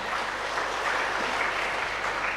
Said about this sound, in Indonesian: Tepuk tangan untuk pelajaran pertama ini